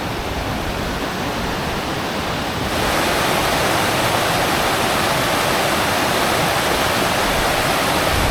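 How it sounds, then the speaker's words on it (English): Rushing water of a Welsh waterfall fills the space with a dense, steady roar, loud and close, with no voices. "I do love being near rushing water."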